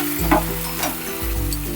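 Shrimp momos sizzle in a pan while sauce is stirred in, a steady loud frying hiss with soft scraping strokes of the spoon, close and continuous, with no talking.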